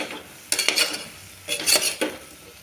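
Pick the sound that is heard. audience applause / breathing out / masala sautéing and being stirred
masala sautéing and being stirred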